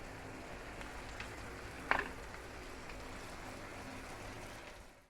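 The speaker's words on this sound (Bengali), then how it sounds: "এবার আমি এটাকে 5 মিনিট নাড়বো" Tel potol, pointed gourd, fries in oil in a pan with a steady soft sizzle while being stirred, with one brief scrape of the utensil partway through and no talking.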